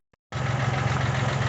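A 1980 Kubota tractor engine idles steadily and close by, a low even throb with a slight knock, starting abruptly after a brief tick and running alone without any talk.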